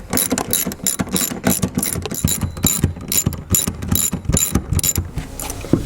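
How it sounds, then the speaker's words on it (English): A 15 mm hand ratchet works on the seat bolts of a 2009-2018 RAM truck, giving loud, close, steady rapid clicking in repeated strokes with short pauses between them. "We got our 15 mil ratchet on here."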